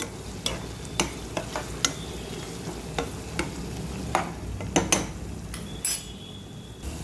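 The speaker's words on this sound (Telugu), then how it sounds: "ఉల్లిపాయలు ముగ్గుతూ ఉన్నాయి" Onions cooking in a pan for a small-fish curry, giving a steady soft sizzle with repeated sharp scrapes and clinks of a spoon stirring against the pan, close and without talk.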